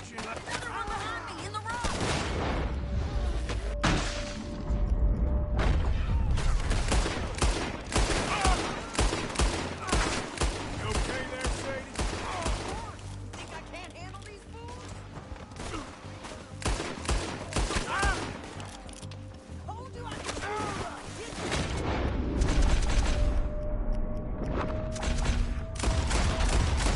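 Gunfire in a Red Dead Redemption 2 shootout, dense bursts of rifle and pistol shots cracking near and far over a long stretch, with occasional voices amid the exchange.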